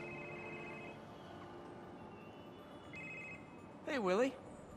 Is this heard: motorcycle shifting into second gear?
no